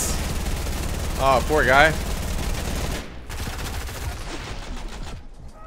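Rapid, dense gunfire from a Fortnite match crackles steadily throughout, loud and close, thinning out after a few seconds while someone talks over it.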